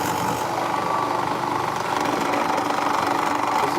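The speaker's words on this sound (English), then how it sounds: "This is exciting, watching a drill press" A drill press runs steadily and loudly, boring a fireworks holder, with a constant motor drone and grinding buzz throughout and no voices.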